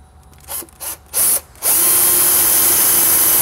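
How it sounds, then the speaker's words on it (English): A power drill bores a hole into the body of a 2009 Mini Cooper Clubman, starting with three short loud bursts, then a sustained close, high-pitched whine as the bit cuts through. "it's nice to have either a starter hole or a punch hole just to get this drill bit centered"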